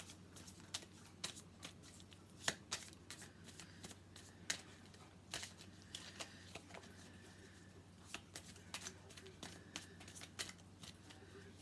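Tarot cards are shuffled by hand in a quiet room, making repeated soft riffling flutters and sharp slaps at an uneven rhythm, close by and moderately faint.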